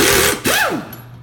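A power tool takes out the wheel hub bolts on a van, giving a loud, close burst of whirring followed by a rising then falling whine as the tool spins up and winds down.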